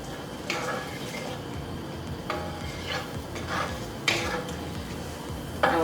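Garlic cooks in a pan with a soft, steady sizzle. A utensil scrapes and taps against the pan several times, with sharper clicks near the end.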